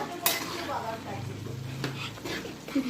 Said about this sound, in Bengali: এরপরে আমি এটাকে নেড়ে চেড়ে দেবো